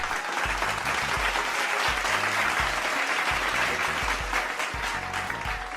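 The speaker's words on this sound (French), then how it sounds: "Nous pouvons nous applaudir, frères et sœurs." A church congregation claps together in a sustained, loud burst of applause, with a low rhythmic thumping, like bass music, pulsing beneath the clapping throughout.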